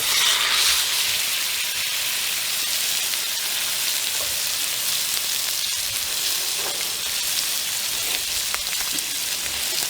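Steak sizzles in a hot cast iron skillet, a steady, bright crackling hiss with small pops that carries on evenly for ten seconds at close range, with no talking.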